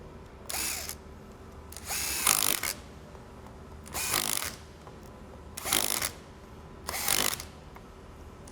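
A power tool runs in five short bursts to loosely drive fasteners during reassembly of a Jarvis USSS 21-22A, each burst about a second long with quiet pauses between, close and fairly soft.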